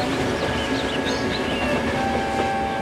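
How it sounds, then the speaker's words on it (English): Trains rush through a tunnel with a steady, loud rumbling roar and faint rail clatter, a continuous sound effect with no voices. "he watches the trains rushing through the new tunnel"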